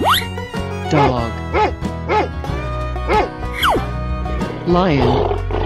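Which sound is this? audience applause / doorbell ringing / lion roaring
lion roaring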